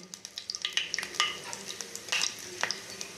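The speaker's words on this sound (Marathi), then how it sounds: "आता यात मी हे चिमूटभर जिरं टाकते।" Cumin seeds sizzling in hot ghee in a kadhai, a lively crackle of rapid popping spits and snaps over a faint frying hiss, close and fairly quiet.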